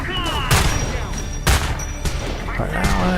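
Gunfire in Homefront: The Revolution, a few loud, close sharp bursts spaced about a second apart, each ringing briefly, over a busy game background with some voice chatter.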